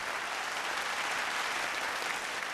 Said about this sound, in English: Round of applause, please, for Emmanuel Muganawa, the music director, and Jamie Lee, the vocal coach and mentor